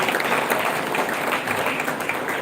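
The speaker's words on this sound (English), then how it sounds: "can we have one round of applause for all the talented students that we have seen out here?" Sustained audience applause at a school annual day event honoring talented students, a dense, steady wash of many hands clapping with no break, with no speech over it.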